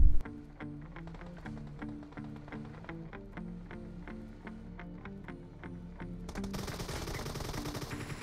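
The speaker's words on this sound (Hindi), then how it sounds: "उतनी देर में भाई सामने से अलग फायर आने लगता है" Rapid automatic gunfire in a battle royale mobile shooter, a steady rhythmic stream of evenly spaced shots with moderate loudness, turning denser and noisier toward the end.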